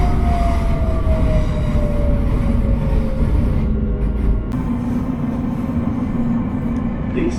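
A Queensland Rail passenger train bound for Gympie North runs steadily, a loud continuous rumble with a faint tonal whine that slowly falls, heard from on board with no talking.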